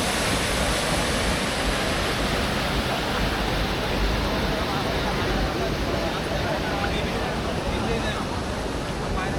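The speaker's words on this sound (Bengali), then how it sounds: "নাফাখুম ঝর্ণা, কি সুন্দর পানি পড়তেছে।" Nafakhum waterfall pouring, a dense steady roar of falling water filling the whole scene, loud and unbroken, with faint voices mixed into the rush.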